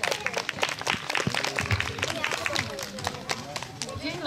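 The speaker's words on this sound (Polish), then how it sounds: "Wielkie brawa, pani Edytko, dla pani." Outdoor crowd at a Children's Day village event claps loudly in scattered bursts, close and uneven, mixed with talk and voices through the applause.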